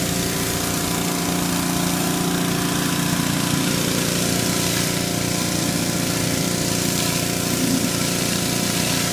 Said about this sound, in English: Let's see how the power washer's doing.